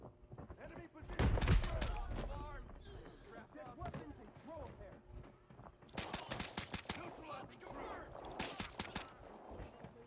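Pistol gunfire in the shooter video game Arena Breakout, sharp shots crackling in clusters with a loud burst early on and further volleys later, while a person talks throughout.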